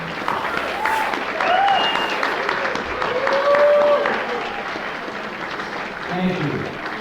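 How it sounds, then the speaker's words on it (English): A reunion audience applauds veterans and first responders with sustained clapping and crowd noise throughout, the broad wash swelling mid-way, while voices and occasional cheers carry over it. "Let's have a really strong round of applause."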